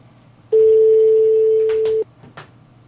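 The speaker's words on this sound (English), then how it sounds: "I don't like the rings on Skype, by the way." A single steady electronic tone from a Skype call, held for about one and a half seconds, then a few short clicks and soft sounds in a quiet room.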